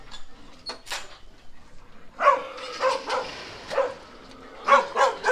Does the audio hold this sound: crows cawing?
no